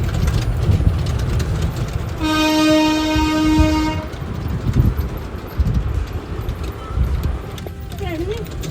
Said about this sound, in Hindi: ये जो ट्रेन का हॉर्न बज रहा था